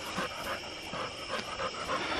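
Hunting dogs panting close by while digging during an armadillo hunt, a run of quick rhythmic breaths over a continuous outdoor background, with no talk.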